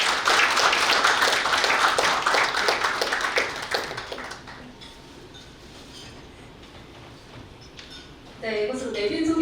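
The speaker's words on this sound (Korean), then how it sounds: "오늘 역사를 이루어줘서 박수 부탁드리겠습니다." An audience applauds at a newspaper's 24th-anniversary ceremony, with dense clapping for about four seconds before fading to quiet room tone, then a brief burst of sound near the end.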